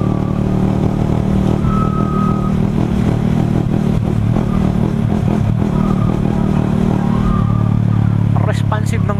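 A remapped motorcycle cruises along a highway at night, its engine droning steadily and loud over constant wind rush, with a few short throttle blips and some clatter toward the end.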